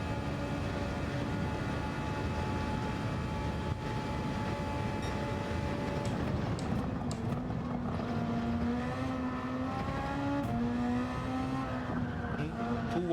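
A Super Formula open-wheel race car screams down a straight at around 281 km/h in a racing game, its engine a steady high-pitched drone that climbs in pitch through an upshift, loud and continuous.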